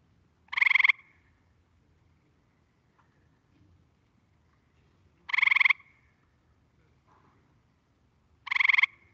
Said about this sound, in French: La rainette versicolore, que vous auriez pu entendre, c'est celle qu'on dirait le téléphone.